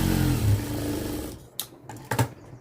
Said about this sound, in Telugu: ఇక్కడ కూడా పావించి పట్టుకొని స్ట్రైట్గా కుట్టు వేసేస్తున్నాను